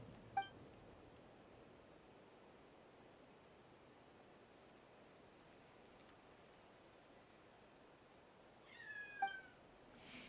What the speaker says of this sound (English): my cat is being noisy. He wants out